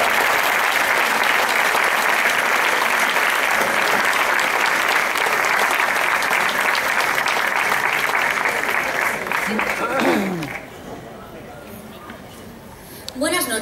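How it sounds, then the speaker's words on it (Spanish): An audience at a summer multicultural festival gives strong, sustained applause for the Aragonese jota folk dance group of the Centro Aragonés de Puerto de Sagunto, dense clapping that fades around ten seconds as a voice begins speaking. "Pedimos un fuerte aplauso para el Centro Aragonés de Puerto de Sagunto."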